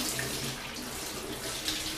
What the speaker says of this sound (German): der Pilz, der wirkliche Pilz, der ist hier, der wird jetzt erstmal unter kaltem Wasser abgespült.